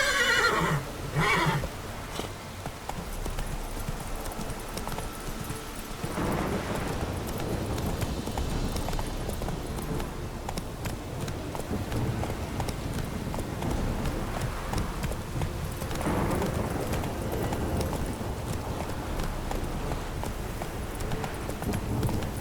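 Roach, the horse from The Witcher 3: Wild Hunt, whinnies loudly and then gallops in a steady, continuous run, with a second neigh partway through and no talk over it.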